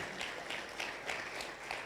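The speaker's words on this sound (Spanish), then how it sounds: "¿Cuántos le agradecen con aplausos de alabanza, de agradecimiento?" A church congregation claps in praise during a Spanish-language service, a soft, fairly distant wash of applause with rhythmic swells, heard alone without speech.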